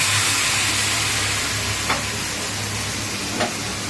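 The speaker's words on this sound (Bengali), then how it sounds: "ভেজে টেজে এই যে মশলা কষাচ্ছে" Spices frying and being stirred in a pan for a fish curry: a steady, loud sizzle with a faint scrape of the spoon now and then, with no talking.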